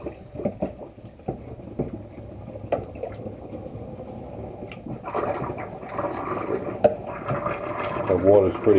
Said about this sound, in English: Just lift the gasket out And let the water drain out.